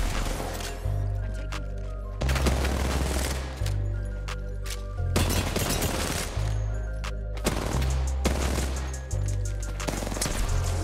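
Video game gunfire in rapid bursts, repeated volleys of sharp shots over a pulsing low background beat, loud and close with little talk.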